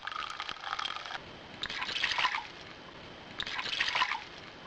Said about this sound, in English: You need to fill the pot with 2 cups of water.